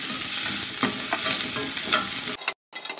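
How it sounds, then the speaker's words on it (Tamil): Onions sautéing in a kadai for quail egg gravy, a close, steady sizzle with scraping stirs of a spoon against the pan, then a brief silence near the end. "பார்த்திங்கன்னா வெங்காயம் பாதி வதங்கிடுச்சு"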